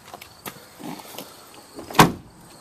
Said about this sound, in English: You really got to slam the door to get it to close.